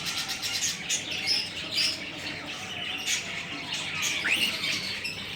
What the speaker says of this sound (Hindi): बहुत खूबसूरत, बहुत प्यारा तोता मेरा